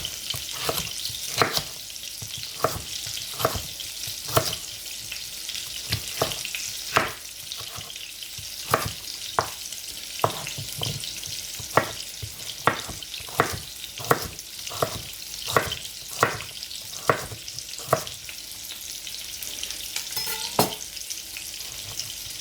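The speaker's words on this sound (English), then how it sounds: "I'm gonna add it to the frying pan" Vegetables, including celery, sizzle and fry in a pan, a constant crackling hiss broken by regular clacks of stirring against the pan.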